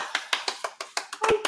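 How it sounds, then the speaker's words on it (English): A small coffeehouse audience clapping quickly in unison, about ten sharp, evenly spaced claps close by, with a faint voice murmuring briefly near the end. "if you guys. clap really fast, it sounds like more people are clapping"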